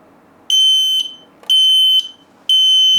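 An X-Sense hardwired smoke detector sounds its test alarm in three loud, piercing half-second beeps, evenly spaced about a second apart, with no voices.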